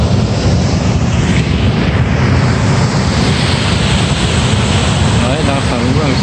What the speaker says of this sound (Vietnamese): cái đập bản Mong đang xả lũ đây, để xả nước ở dưới cái đập đây